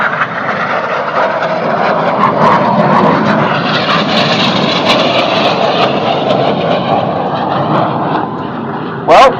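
Red Arrows display jets roar overhead during a crossing manoeuvre at an air show, a loud, sustained engine rush that swells and fades, with a commentator talking over it.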